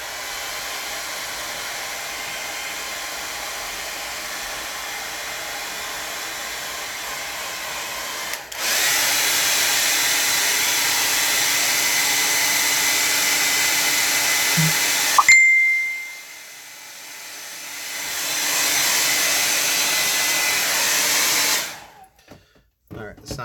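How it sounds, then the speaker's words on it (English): A blow dryer drives hard air across a watercolor painting, a loud continuous whine that shifts in pitch and level as it moves, dipping briefly before cutting off at the end. "I'm about to turn on the blow dryer."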